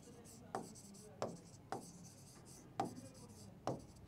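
Writing on paper during a Class 6 science lesson: about five quiet, short scratchy strokes spaced irregularly, close to the listener in a calm room.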